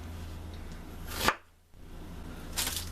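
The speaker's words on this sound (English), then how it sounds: "I'm going to cut this onion into bite-sized chunks." A knife cuts an onion into bite-sized chunks on a board: one sharp, close chop a little past one second, a brief near silence, then a softer second cut near the end.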